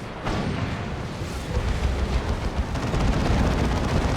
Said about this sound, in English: Stormlord still taking huge shots from double Devastators with las cannons here